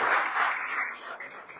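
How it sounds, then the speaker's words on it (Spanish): Applause from an audience at a ceremony honoring young athletes' achievements, including a bronze medal, a steady dense clatter of many hands that gradually thins and fades over a short span. "Fuerte el aplauso a la distancia."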